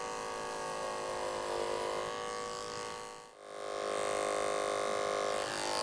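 Electric hair clippers buzz steadily through a half-inch taper on a classic side-part men's haircut, a close, continuous hum that dips briefly as the blade is lifted away before resuming at full strength.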